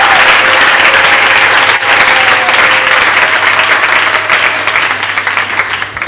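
A church congregation applauds loudly and steadily, a dense continuous wash of clapping that fills the room and fades slightly toward the end, with no voices over it.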